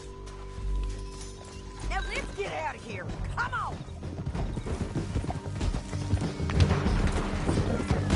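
Horse hooves clip-clop and gallop in Red Dead Redemption 2, a steady thudding run that builds louder toward the end, mixed with crashes and brief voices speaking over it.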